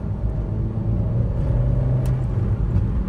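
A Ford Figo pulls along a rural road between farm fields, its engine giving a steady, close, continuous rumble with low droning tones and no voices.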